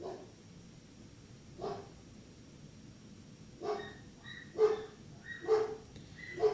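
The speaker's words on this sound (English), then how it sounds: "my dog's barking" A dog barks in a home several times, sharp yips and woofs that come closer together toward the end, moderately near and mixed with a faint background hum.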